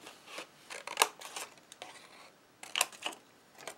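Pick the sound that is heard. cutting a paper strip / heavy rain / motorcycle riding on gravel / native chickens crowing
cutting a paper strip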